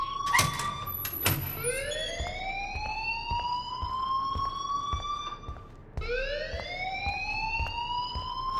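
School alarm ringing in the video game Life Is Strange: a rising electronic siren-like wail that swells and sustains, then restarts for a second rising sweep, moderately loud and alone.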